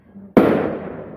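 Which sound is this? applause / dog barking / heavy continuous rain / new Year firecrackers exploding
new Year firecrackers exploding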